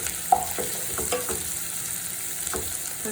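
Chili powder sautéing in ghee for a fish curry, a steady soft sizzle with a few light stirring scrapes and taps, close and alone without talk.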